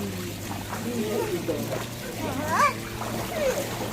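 Water splashes as a child bathes and swims at a homestay, light irregular splashing and dribbling under ongoing talk from an adult and child.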